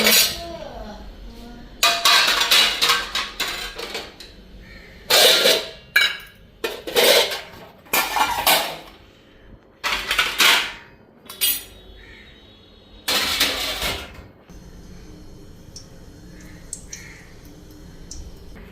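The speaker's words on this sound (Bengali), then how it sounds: "তখন এই ধোয়া বাসনগুলি" Freshly washed metal dishes and pots handled in a home kitchen, close by, in bursts of loud clattering clinks and clanks separated by short quiet pauses.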